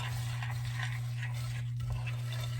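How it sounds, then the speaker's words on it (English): A spoon stirs peanuts through melted chocolate in a pot, giving a continuous soft scraping and churning that holds steady over a low background hum, with no voices. "I'm just gonna stir in this chocolate and my peanuts together"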